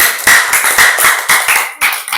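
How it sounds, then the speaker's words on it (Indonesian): A group of classmates applauds in a classroom, loud and close, with quick bursts of hand claps in an uneven rhythm lasting a couple of seconds. "kita kasih aplaus teman-teman"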